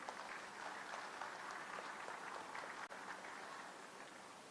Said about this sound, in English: let us welcome Sambit Patra sir with a round of applause.